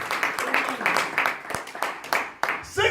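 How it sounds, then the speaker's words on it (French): A church congregation claps to honor the word of God, a brisk, fairly close burst of hand clapping in uneven pulses, ending abruptly as a voice begins. "Applaudissons la parole de Dieu. Let's clap our hands for the word of God."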